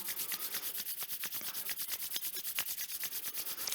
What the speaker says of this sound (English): we'll rub the palms briskly, create some warmth and heat in your palms